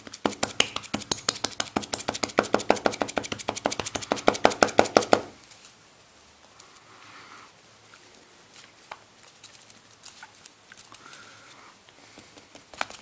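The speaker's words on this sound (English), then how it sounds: "So just to get the bubbles out," Rapid, dense tapping on a silicone chocolate mould to release bubbles for about five seconds, close by, then it stops and only faint room noise remains.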